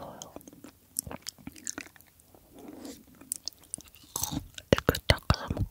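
An apple is eaten close to the microphone in an eating ASMR session, with soft, wet chewing and crisp crunchy bites scattered irregularly, becoming sharper and more frequent toward the end, amid faint quiet mouth sounds.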